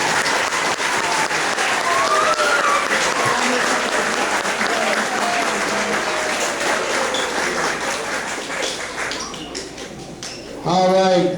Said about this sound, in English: let's give a big round of applause for den 13